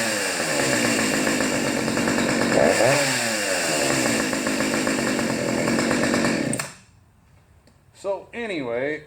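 A Dolmar 6400 chainsaw runs loudly up close, its engine note dipping and rising once, then shuts off after about six and a half seconds, followed by a person speaking briefly.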